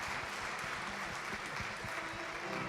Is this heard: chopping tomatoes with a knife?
no